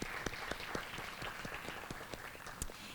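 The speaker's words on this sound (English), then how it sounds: "one last round of applause for all of our graduates" Applause for graduates at a summer 2021 high school graduation ceremony, steady clapping from a crowd with individual sharp claps standing out, continuing evenly throughout.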